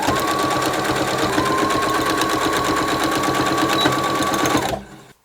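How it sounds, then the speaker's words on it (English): A sewing machine runs steadily for about five seconds, top stitching through fabric and its lining on a clear project bag, loud and close, then stops abruptly near the end. "we'll top stitch along here"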